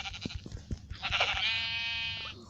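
Goat bleating in Minecraft, a long wavering nasal cry following a few soft thumps and clicks, fairly close and clear with no speech.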